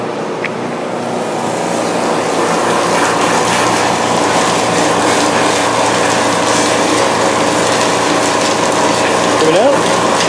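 Hand pump worked steadily while a chassis is being cleaned, giving a continuous clanking, ratcheting mechanical rattle that stays loud and close throughout, with a brief rising squeak near the end.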